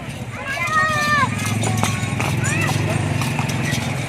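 A horse carrying a local politician and former assembly candidate through a town in Siwan, its hooves clip-clopping in a steady rhythm close by, with a neigh or two rising over voices talking and crowd noise.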